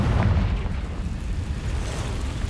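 Confringo fire-blast spell from the Hogwarts Legacy video game, a loud rumbling explosive burst with a sustained roaring boom that tails off over a couple of seconds, no voices.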